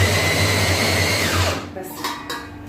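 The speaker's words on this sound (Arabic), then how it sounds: "انا هديله كمان فرم عشان فيه حته ما اتفرمتش كويس" An electric food chopper grinds red chili peppers with a loud, steady motor whine that winds down and stops partway through, followed by a few faint knocks and clatters.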